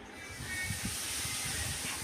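Tempering spices hit hot oil in a pan, giving a steady hissing sizzle that holds evenly for a couple of seconds with no talking.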